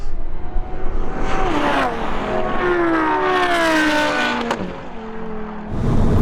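A modified Audi RS3 saloon launches hard in a race against supercars, its engine roaring up through rising, strained revs with a brief gear-change dip, loud and close, with no talking.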